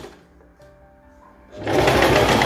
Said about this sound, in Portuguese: a gente vai para a máquina. Costurando aqui essa parte da lateral